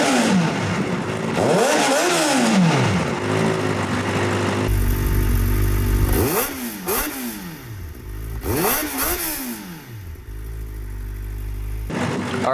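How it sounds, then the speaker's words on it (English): A Kawasaki ZX-4RR motorcycle with a full exhaust and its valve closed, revved repeatedly from idle: several sharp rising and falling engine sweeps, close and loud, with a steady idle between them. "we're gonna do a comparison of what it sounds like when the valve is closed."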